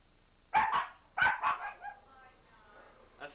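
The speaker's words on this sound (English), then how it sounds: "Who's barking at me?" Two short bursts of dog barking up close, a pair of quick yaps and then a second cluster, followed by a faint trailing whine and a brief sound at the very end.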